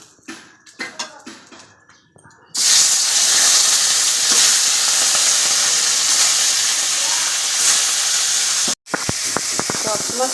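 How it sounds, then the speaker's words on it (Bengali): Fish drops into hot oil in a karai and erupts into a loud, close, sustained frying hiss. Brief clattering comes before it, and the sizzle cuts off near the end before resuming with clinks. "বাকিগুলো মাছ দিয়ে দেবো কড়াইতে।"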